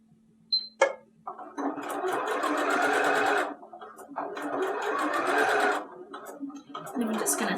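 A sewing machine stitches a fabric scrunchie in two long, steady bursts of rapid mechanical chatter, separated by a brief pause and framed by small clicks and handling noises.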